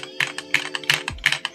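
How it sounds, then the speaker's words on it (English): Keys on a mechanical keyboard with brown switches and foam inside are typed close up, a quick, uneven run of crisp clacks with no talking. "Yeah, that's what the keyboard sound like."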